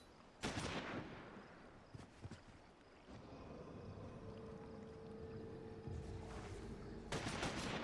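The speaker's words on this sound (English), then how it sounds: "shoot him again" Gunshots in Final Fantasy XIV combat: sharp loud blasts at the start and end with scattered shots between, over a steady rumbling battle ambience and a faint sustained tone.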